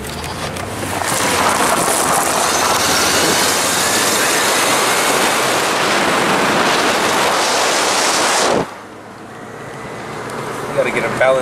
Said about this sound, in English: Quick ass little test drive with the new wheels.